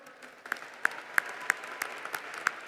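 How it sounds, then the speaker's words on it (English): Scattered applause at the Phoenix College 2024 commencement honors staff, with a few sharp, distinct nearby claps standing out over a softer, thinner background of clapping. "Please let's give them a big round of applause for their incredible work."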